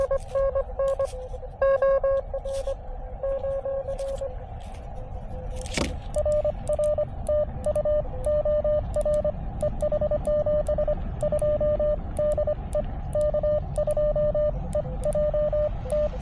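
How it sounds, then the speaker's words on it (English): On the 15-meter band during a park or summit portable session at Sugar Hill State Forest, a ham radio station calls CQ in Morse code. Steady tone beeps pulse rhythmically through a radio receiver over hiss and static crackle, with one brief burst of noise. "Somebody's calling CQ right under me."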